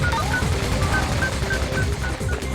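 Rapid crisscrossing turret fire from the Ratchet & Clank video game on Qwark's Challenge Course, a dense continuous stream of gunshot bursts with no talk over it.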